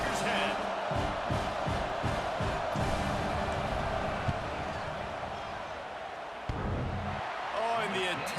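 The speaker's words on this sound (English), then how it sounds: "This crowd trying to do its part to get inside the kicker's head." Stadium crowd in College Football 26 during a field goal try, a dense continuous roar and rumble filling the background, loud and unbroken, with a commentator speaking over it.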